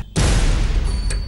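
Firecrackers bursting in Srinagar streets, a dense crackling barrage of rapid pops that starts abruptly and keeps going, loud and close with a brief sharp flare near the end.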